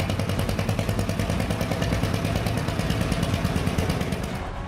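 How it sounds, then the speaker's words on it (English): A 45-horsepower Lanz Bulldog tractor engine roars steadily through a tractor pull, a loud, continuous, rapidly pulsing mechanical rumble with clattering overtones that holds throughout and fades slightly at the very end. "the Lanz Bulldog with its roaring 45 horsepower engine performing a spectacular tractor pull"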